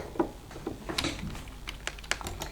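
Quick, irregular clicks and taps of keys on a computer keyboard during a child's gaming session, close and fairly soft, with no voices.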